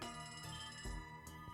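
Lobby telephone ringing in the video game Trails from Zero, a brief electronic ring with a bright, sustained tone, faint and heard alone.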